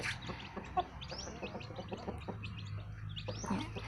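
Soft clucking from a hen mixed with high, thin peeping chirps of chicks, scattered and irregular against a quiet outdoor background.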